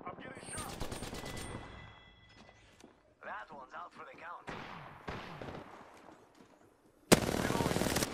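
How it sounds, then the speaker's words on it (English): Gunfire in the battle-royale shooter Apex Legends: bursts of rapid automatic fire mixed with footsteps and game effects, and a loud final blast near the end; a voice speaks between the shots. "I'm getting shot!"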